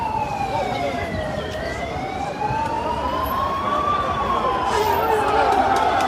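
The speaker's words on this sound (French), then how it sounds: "Donc les pompiers sont en train de passer." Fire engines pass with wailing sirens that slowly rise and fall, loud and close, over a crowd and traffic at a street protest where people talk in the background.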